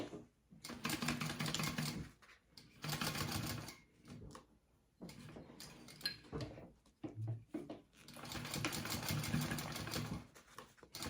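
A sewing machine stitches a zipper pocket closed on a wallet, running in three steady bursts with short pauses between them, a close mechanical whir alone with no voices.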